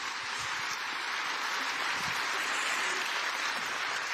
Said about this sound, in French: Et nous pouvons applaudir Grace Guerrero qui est avec nous ce soir.